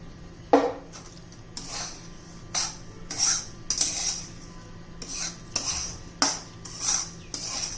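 A spoon stirs roasting semolina mixed with ground cashews and almonds in a pan, giving intermittent scraping and clinking strokes, fairly close and moderately loud with no talk.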